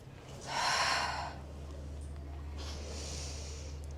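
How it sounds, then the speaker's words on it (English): One big, forceful exhalation during a reformer Pilates exercise, a breathy rush of air that swells and fades over about a second, followed later by a softer second breath over a low steady hum. "Big breath out."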